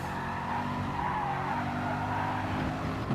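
A Corvette race car in GT Sport online racing drives through an S-bend, its engine drone steady and loud with tire skidding and squeal running continuously throughout.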